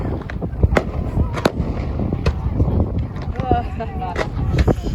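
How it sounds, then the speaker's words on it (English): Fireworks at Swanage Carnival on the seafront: a rapid, irregular barrage of loud bangs and crackling bursts, some booming, with people talking and exclaiming throughout. "You're just in time for the fireworks"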